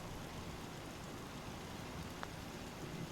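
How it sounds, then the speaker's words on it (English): Steady rain falling in the video game Fallout 4, a continuous even hiss that holds at a constant level with one brief brighter tick partway through and no talking. "it's going to be raining in there the whole time"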